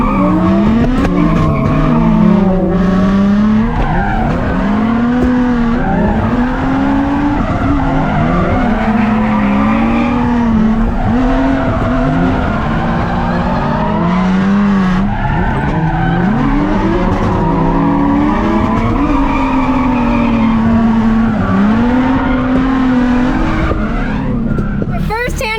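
Cars tandem drifting around a compound, tires squealing and skidding in long wavering howls over roaring engines for the whole stretch, loud and close, with voices faintly underneath.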